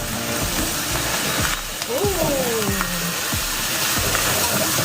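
Flat rice noodles sizzle steadily in a hot wok while being stirred, with scraping sounds and a brief squeak of the utensil against the wok.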